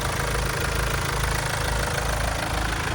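A 2.0-litre diesel engine in a Korean-market car idles steadily close by, a continuous low rumble with a faint knocking chatter that holds an even level throughout, with no talk over it.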